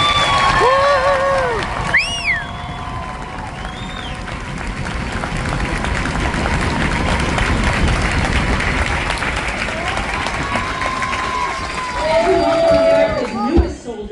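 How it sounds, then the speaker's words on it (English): A large crowd in the stands at an Army graduation applauds and cheers, with sustained clapping under whoops and shouted calls that swell toward the end, loud and busy throughout. "join me in a round of applause for these great men"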